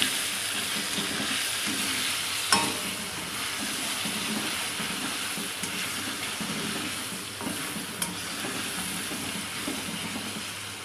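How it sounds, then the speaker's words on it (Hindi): Ginger garlic paste frying in a pan for a chicken handi, a faint continuous sizzle with a few soft clinks of a utensil against the pan. "लहसुन अदरक ये देखें फ्राई हो चुका है।"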